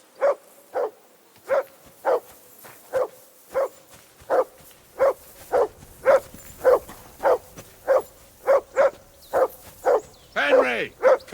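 A dog in Kingdom Come Deliverance II barks in a steady, evenly spaced series of about eighteen sharp, fairly close barks over eleven seconds, with a brief whine near the end.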